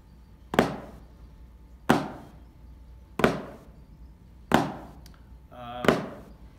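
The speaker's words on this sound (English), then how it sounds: "This is an open flam." Five separate open flams on a snare drum ring out at an even, unhurried pace, each a doubled strike with the two notes slightly apart, the last with a brief buzzing ring.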